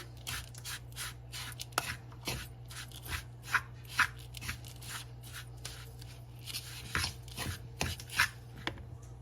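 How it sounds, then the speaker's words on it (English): Crispy fried onions and Monterey Jack cheese get mixed in a bowl, making a rhythmic series of dry crunchy scrapes and rustles, quiet and close, with no talking over them. "Now I'm gonna add my crispy fried onions into a bowl with my Monterey Jack cheese and mix it together"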